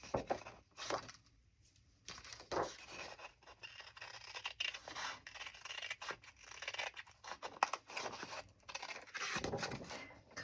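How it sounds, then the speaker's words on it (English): Scissors snip and scrape through paper along a traced pencil line for craft paper clips, in irregular bursts of cutting with brief pauses, close and moderately quiet. "Cutting inside the pencil line."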